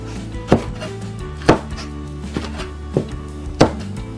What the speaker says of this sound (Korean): 그리고 고명재료인 실파와 홍고추는 적당히 썰어주세요